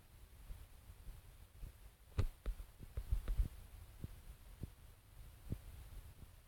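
Low thudding heartbeat warning in a video game, a steady slow throb over faint hum, with a few sharper thumps partway through and no talking.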